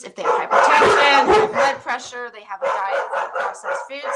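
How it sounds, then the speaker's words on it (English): Pet dogs bark repeatedly indoors at a cat outside, loud sharp yaps mixed in with a person talking over them. "Pardon my dogs."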